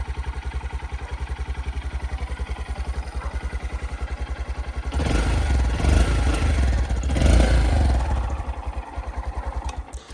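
The small single-cylinder engine of a 2022 Honda Monkey motorcycle idles with a steady, even putter, then revs up loudly twice before settling back, close and clear with no talk over it.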